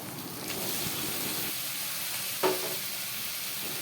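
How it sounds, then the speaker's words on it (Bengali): Chopped tomatoes sizzle steadily as they fry in masala, a continuous close hiss with a brief sharper burst partway through. "এরপর কেটে রাখা টমেটো দিয়ে দিচ্ছি মশলার মধ্যে।"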